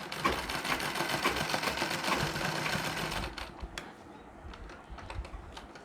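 A sewing machine runs steadily in a rapid mechanical patter while stitching a folded section of a nauvari saree, then stops partway through, leaving quieter scattered clicks and small handling sounds.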